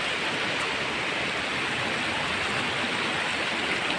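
A stream flows steadily inside a rocky place, a broad continuous rush of water that stays even and fairly close for the whole stretch, with no voices.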